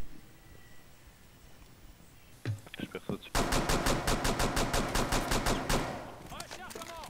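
Pistol gunfire in the Rainbow Six Siege video game: a few scattered shots, then a rapid run of about a dozen sharp, loud reports in quick succession, fading into quieter game noise.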